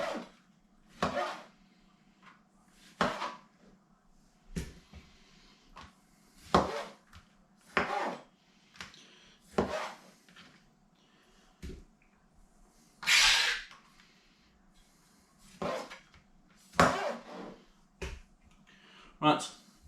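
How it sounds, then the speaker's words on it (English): A knife chops tomatoes on a board: sharp, irregular cuts and taps spread over about twenty seconds, fairly faint and close, with quiet background hum. "Right, I'll keep on chopping these."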